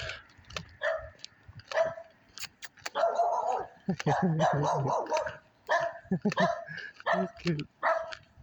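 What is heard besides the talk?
dogs barking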